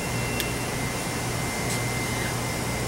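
Steady broadband hiss of a hot air nozzle on a vertical reflow oven set to 375 degrees Fahrenheit, blowing continuously and evenly for the whole stretch with a faint hum underneath and no voices.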